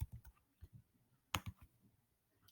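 A name being typed on a computer keyboard: a few scattered, crisp key clicks in short bursts with quiet gaps between, close and fairly soft, with no talking.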